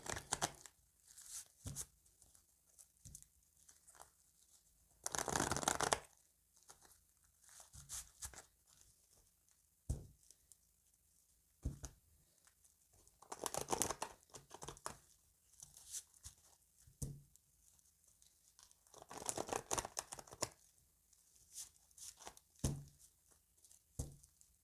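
Tarot cards are shuffled and cut by hand in quiet, intermittent bursts of riffling, flapping and papery rustle separated by soft taps and near-silence, close up with no talking.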